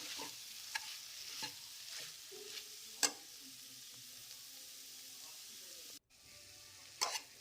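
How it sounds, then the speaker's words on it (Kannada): Potato and capsicum dry curry with coriander leaves cooking in a pan, a soft low sizzle with several sharp stirring scrapes and clinks of a spatula against the pan, near and quiet. "ಕೊತ್ತಂಬರಿ ಸೊಪ್ಪು ಹಾಕಿ ಒಂದೆರಡು ನಿಮಿಷ ಇದನ್ನು ಬೇಯಿಸ್ಕೋಬೇಕು"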